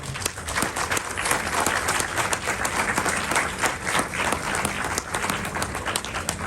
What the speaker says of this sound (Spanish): un gran aplauso ya de entrada para Margot y para Araya